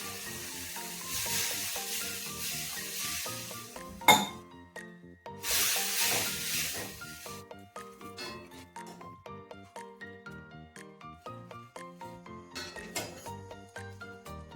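Water poured into a hot oil tempering with red chilli powder for North Karnataka style thili saaru, a loud hissing sizzle in two bursts followed by clinking of utensils and gentle bubbling.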